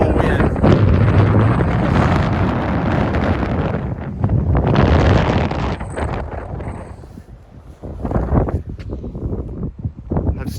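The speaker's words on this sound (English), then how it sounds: "This is incredible wind." Strong wind beside a granite church in Southern California, roaring loud and close in long gusting surges that buffet the microphone, easing briefly before rising again.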